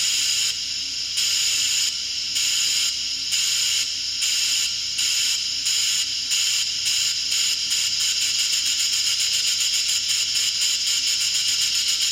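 An electronic steam engine sound kit makes a hissing chuff that pulses in regular bursts, slowing at first then speeding into a rapid, continuous rhythm, loud and steady with no talking.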